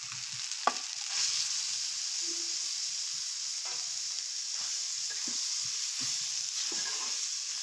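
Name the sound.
beef tripe and potatoes frying in a pan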